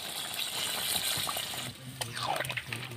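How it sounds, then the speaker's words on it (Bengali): Water being poured into a pot of braised meat to make gravy at an outdoor village picnic, a soft close splashing and trickling that shifts in tone partway through. "বন্ধুরা এবার ঝোলের জন্য জল দিয়ে দিচ্ছি।"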